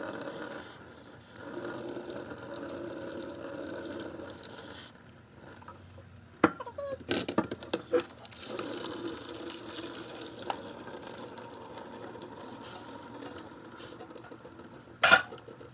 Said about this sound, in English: I'm going to strain them over here